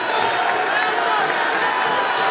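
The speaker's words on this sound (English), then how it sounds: "And the crowd loves it." A basketball arena crowd roars and cheers in a loud, sustained wash after a foul is drawn during a FIBA AmeriCup pre-qualifier game between Suriname and Saint Lucia.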